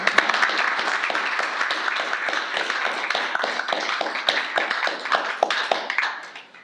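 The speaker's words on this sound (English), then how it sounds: "I'd like to give her a round of applause, everyone" A crowd at a board meeting applauds steadily, dense clapping that holds even and then tapers off near the end.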